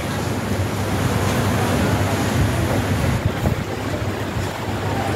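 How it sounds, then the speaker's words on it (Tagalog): Rain falls steadily during a flood, a dense, loud wash of hiss and patter that fills the whole clip without letting up. "Umuulan pa nga eh."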